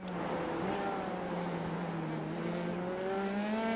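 Dallara F3 open-wheel race car lapping Virginia International Raceway, its high-revving engine droning steadily close up with a rising and falling pitch through gear changes, loud and continuous with no talk.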